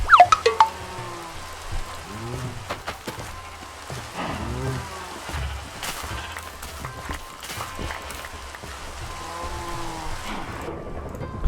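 Minecraft rain hisses steadily through the game scene, broken by sharp thunder cracks near the start and middle, with scattered game noises and occasional faint voices.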